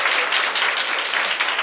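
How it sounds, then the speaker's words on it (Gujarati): An audience at a school foundation-day celebration applauds Mukeshbhai of the electrical department, a dense, steady wash of hand claps close and loud throughout. "આપણે એમને તાળીઓથી વધાવીએ."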